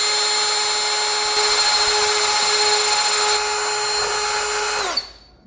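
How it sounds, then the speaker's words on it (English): A power drill with a dull bit bores holes for the inside window felt on a 1968-72 Chevelle, whining loud and steady for about five seconds before spinning down abruptly. "And drill, baby, drill."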